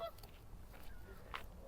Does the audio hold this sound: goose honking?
yes